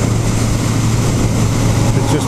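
A 1991 Suzuki GSX1100G four-cylinder motorcycle engine hums steadily and continuously at close range, a smooth low drone with a purring exhaust note and no pauses, partly overlaid by a voice talking.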